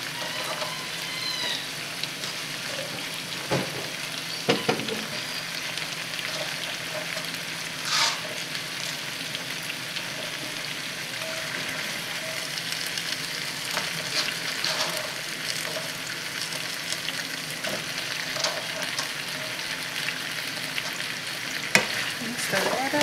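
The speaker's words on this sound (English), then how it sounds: "Now I'm going to add the carrots and the potatoes as well as the liquid." Curry chicken with carrots, potatoes and liquid stirred in a pot, giving a steady simmering sizzle with occasional scraping and clinking from the spoon against the pot, close and fairly soft, with no talk.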